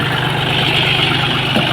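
A tractor engine idling steadily, loud and close, with a low rhythmic throb and constant mechanical rumble throughout.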